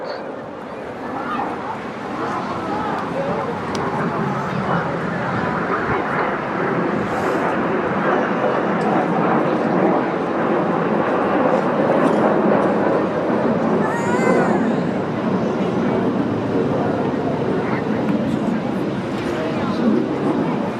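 An aerobatic display aircraft flies a flat coiling manoeuvre at a seaside airshow, its engine a broad, sustained roar at moderate distance, with crowd noise and scattered voices beneath.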